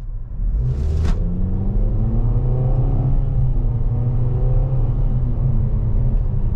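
A 2025 Nissan Kicks SR subcompact SUV with a CVT accelerating after braking: a steady low engine and road rumble with a tone that climbs smoothly, heard from inside the cabin, with no talking.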